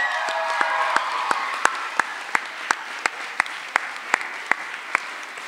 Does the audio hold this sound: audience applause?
yes